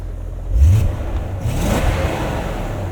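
A 2000 BMW M5 (E39) V8 engine cold-starts, catching and rising in a quick rev, then settles into a steady rumbling idle, close and loud with no talking.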